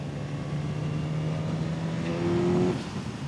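A Suzuki GSX-S1000 motorcycle engine holds a steady, close drone, then swells in a brief rev toward the end before dropping back. No one speaks.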